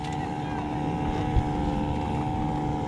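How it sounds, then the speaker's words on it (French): A boat motor hums steadily at a moderate distance at sea off the Dominican Republic, mixed with wind buffeting the microphone. "Il a redémarré son moteur."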